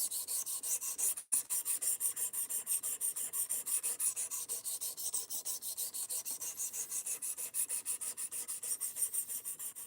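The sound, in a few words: freehand knife sharpening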